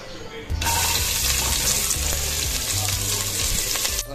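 Onions dropped into hot oil already holding cinnamon and cardamom burst into a loud, steady sizzle that starts abruptly and holds near the mic, with occasional stirring scrapes underneath.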